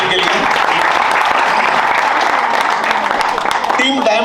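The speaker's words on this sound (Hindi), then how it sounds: "तो जोरदार तालियां प्लैटिनम के लिए" A live audience at a Nagpur trading game event gives loud, close applause for team Platinum, dense clapping sustained throughout with possible voices mixed in.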